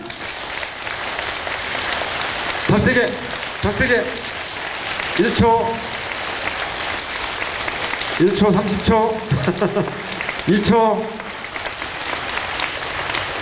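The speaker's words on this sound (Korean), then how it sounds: "있는 힘을 다해서 박수 치는 거예요." High school students clap their hands as hard as they can in a lecture hall, dense bursts of loud crowd applause, while a voice repeatedly urges them on and counts over the noise.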